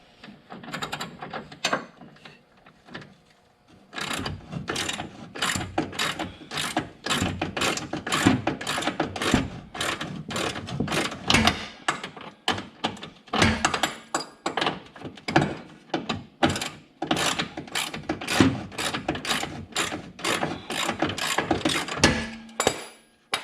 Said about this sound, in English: I'm going to take these bolts off with a 13/16 socket and wrench